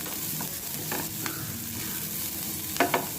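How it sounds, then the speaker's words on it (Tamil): Chopped onion sautés in a pan on a medium flame for coriander chutney, giving a soft steady sizzle with a few light stirring scrapes and a pair of clinks near the end, with no voices. "வெங்காயத்தை 2 நிமிஷம் மிதமான தீயில் வதக்கிக்கலாம்."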